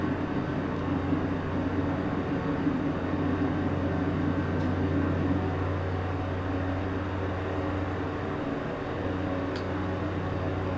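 A steady propeller engine drone from inside the cockpit of a Hawk Arrow II light plane taking off and climbing in Microsoft Flight Simulator 2024, loud and even, with a slight dip near the end and no talking.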